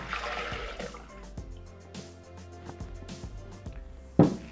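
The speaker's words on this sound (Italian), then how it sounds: "versiamo l'acqua all'interno del boccale" Water is poured into a Thermomix TM6 mixing bowl, giving a soft trickling and splashing against the bowl, fairly close, ending in a brief louder knock.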